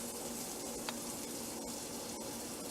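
Bacon frying in a pan gives a steady, close crackling sizzle throughout, with a few sharper pops and no voices.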